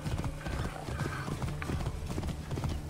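Galloping horse in the video game Assassin's Creed Origins, a steady rapid clip-clop of hooves with a brief whinny, loud and close against a continuous game background.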